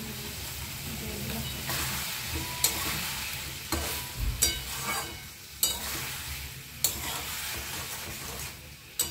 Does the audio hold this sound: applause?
no